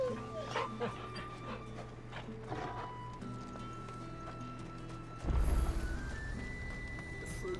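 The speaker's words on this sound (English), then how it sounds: "Show my doggy some love." In the Final Fantasy 16 video game a dog whimpers and gives short barks amid hoof clip-clops and game sound effects, with a character's voice talking and music-like tones shifting in later.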